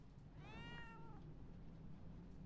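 A cat in a video game gives a single clear, drawn-out meow over a faint steady background hum, fairly quiet overall.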